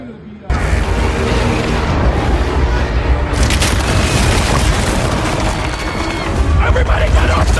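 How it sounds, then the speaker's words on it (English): A staged explosion and fire at Hoover Dam, a sudden loud boom that swells into a sustained roaring rumble lasting several seconds, with shouting voices mixed in. "someone's just blown out. Explosion and a fire."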